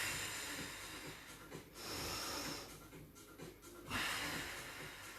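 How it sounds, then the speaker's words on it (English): Slow, deep belly breaths during a morning stretching routine, heard as close, airy inhales and exhales in a long, even rhythm with no talking. "Just take some nice deep belly breaths."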